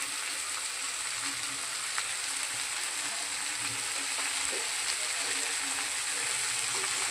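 Spinach frying in a hot pan gives a steady, even sizzle that hisses throughout without pause, close and moderately loud, with no voices.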